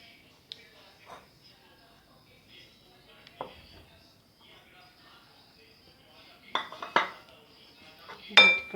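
A chicken noodle cutlet mixture is mixed in a bowl, giving sparse clinks and scrapes of a utensil against the dish. The sounds are quiet at first and grow louder and more frequent toward the end.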